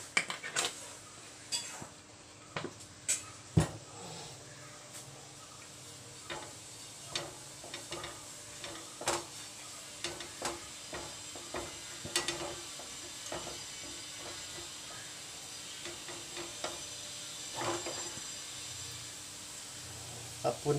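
Coconut oil heating in a hot pan gives a faint, steady sizzle, broken by scattered clinks and taps of utensils against the pan.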